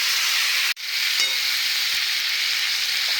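Chopped tomatoes drop into hot oil tempering with salt and turmeric for Gujarati tomato chutney, a loud steady sizzle and frying hiss that runs throughout, with a brief break early on and faint stirring scrapes.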